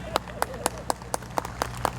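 At a Libertarian campaign speech in Newport News, Virginia, a few hands clap in a slow, regular rhythm, about nine distinct claps spaced evenly, sparse and fairly close over a quiet hall.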